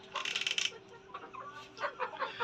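A Golden Misri hen, a young bird not yet laying, gives a close series of quick, short clucks, first in a tight cluster and then in several more scattered bursts, against a faint steady hum.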